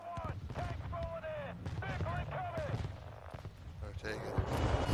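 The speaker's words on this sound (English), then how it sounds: "Friendly airstrike on the way." Airstrike explosions in a Call of Duty match arrive as a rapid run of booming blasts and gunfire bursts that overlap, with whistling tones and radio callouts over the chaotic, continuous din.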